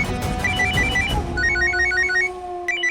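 A telephone ringtone chirps in rapid repeated electronic trills over a low hum and some background rumble, fairly clear and close, with no talking.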